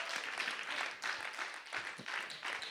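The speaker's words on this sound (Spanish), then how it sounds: "démosle un aplauso al Señor" Church congregation applauding, a dense, continuous wash of many hands clapping in a hall, fairly distant and soft, with rhythmic swells throughout.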